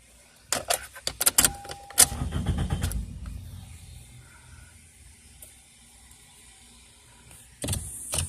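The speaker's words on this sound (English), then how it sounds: "Yeah, it's not really starting at all." 2002 Toyota Corolla LE with a crank-no-start fault: clicks and a short burst of starter cranking that dies away without the engine catching, then a quiet hum and a final click, close by.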